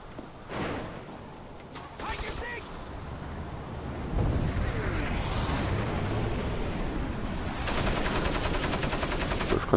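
Gunfire in the video game Crysis Warhead, scattered shots early giving way to sustained bursts and rapid automatic fire, loud over a dense noisy battle ambience.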